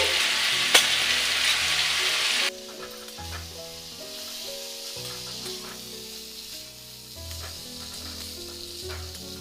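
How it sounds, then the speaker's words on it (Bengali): Fried diced fig pieces sautéed with ground red chilli, cumin, green chilli paste and ginger paste in a pan, a steady hissing sizzle that starts bright and loud, then settles into quieter frying with stirring scrapes. "এবার আমি ভেজে রাখা ডুমোগুলো দিয়ে একসাথে সব কষিয়ে নেব"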